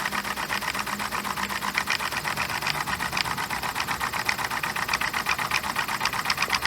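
A small student-built steam heat engine spins a generator, chattering in a fast, even mechanical rhythm that stays steady and fairly quiet throughout, with a faint hiss of escaping steam.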